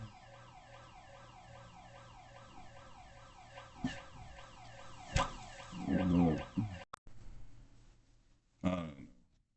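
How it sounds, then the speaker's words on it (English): Siren wailing outside on a city street in Winnipeg, a rapid repeating up-and-down yelp heard at a distance, broken by a few nearby thumps and rustles and ending with a short burst of noise. "I don't know what the alarm was."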